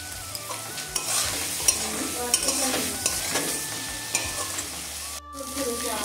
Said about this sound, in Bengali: এটা কিন্তু আমি আর জল দেবো না, এরকমই ভাজা ভাজা করে নেব।